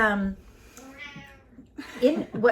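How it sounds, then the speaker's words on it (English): Turkish Angora cat meowing indoors, a few short mews between stretches of nearby human talk; fairly close and moderate in level. "we have a kitty cat here"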